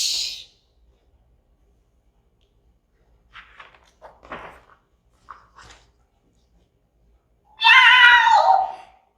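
A cat meows in a read-aloud children's story about a witch's trip into space, with one short meow at the start and a longer, louder meow near the end, quiet rustling and knocks in between.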